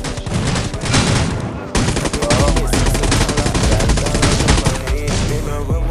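Dense, continuous gunfire from the mobile battle-royale game Rules of Survival, with rapid automatic bursts and overlapping shots that stay loud and close throughout a clan-versus-clan match.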